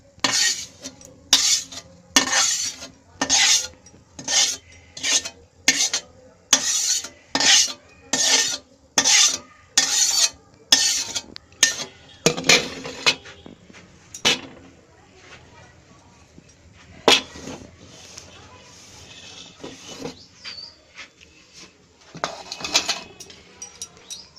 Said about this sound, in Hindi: ये हमारा सूजी हमारी भूंज गई है। अब इसे हम एक बर्तन में निकाल लेते हैं।